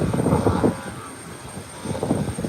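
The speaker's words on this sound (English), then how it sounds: "here's the ATR 72 heading down the runway" An ATR 72 turboprop airliner rolls down the runway toward runway 10 at Howard Hamilton International Airport, giving a steady, moderately loud propeller and engine roar that swells at the start and end.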